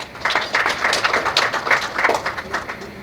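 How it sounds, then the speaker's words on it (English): Clapping from a small audience at a women's insurance breakfast meeting, irregular hand claps of moderate loudness lasting throughout without talk. "So let's clap for ourselves."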